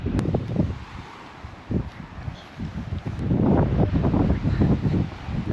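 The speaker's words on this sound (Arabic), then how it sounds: "مشكلة اليوم الجو انه في هواء كثير" Strong wind gusting at the top of a tall tower, buffeting the microphone in uneven rumbling bursts that swell and ease, loud and close with no speech.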